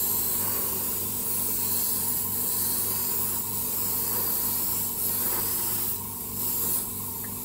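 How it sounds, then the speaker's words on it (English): An airbrush sprays paint onto a 1/24 scale model in an even, continuous hiss. It stays steady at low level with slight swells as the brush passes back and forth, and no voices are heard. "that sounds like it's spraying better now"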